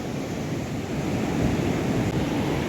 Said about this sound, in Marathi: पूर्ण लाटा येतात बघा अशा.